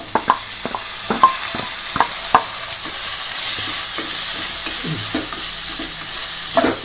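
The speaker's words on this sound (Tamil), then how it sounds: "தக்காளி ஆட் பண்ணிடலாம்" Tomato and drumstick stir-fried in a pan, a loud close sizzle with repeated sharp spatula scrapes and taps against the pan at an irregular pace.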